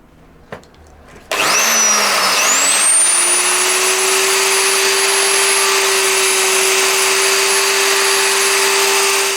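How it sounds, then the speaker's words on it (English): A wood router cuts into the body of a Fender Telecaster, deepening and flattening an existing cavity: a loud, steady high-pitched whine that starts abruptly, spins up over a second or so, then holds constant and close up. "it's routing time. I'm going to go a tiny bit deeper in the old hole just to make the bottom nice and flat"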